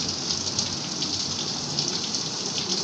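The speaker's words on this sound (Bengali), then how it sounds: "এখন বৃষ্টি হচ্ছে" Rain pouring at night, a dense, even hiss of drops on surfaces, loud and constant with no voices.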